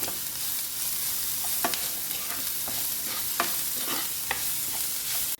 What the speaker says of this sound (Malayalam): ഇത് നന്നായി ഒന്ന് മിക്സ് ചെയ്യാം.